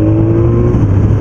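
A BMW K1200S motorcycle engine pulls in top gear at low revs, giving a steady, loud, deep drone with a constant hum and no talking.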